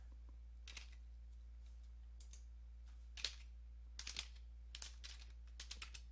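Keys on a computer keyboard tap out a short command in several quick bursts of clicks, quiet and close, separated by brief pauses against a low steady hum.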